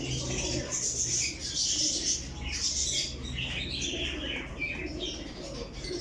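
Pigeons in a breeder's loft, repeated soft cooing and chirpy bird calls close by, with light rustling and some quiet background talk.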